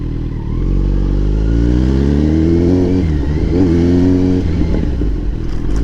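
A Kawasaki Z900 superbike engine rumbles loud and close while being ridden, its pitch rising gradually as the revs climb, then wavering with throttle changes.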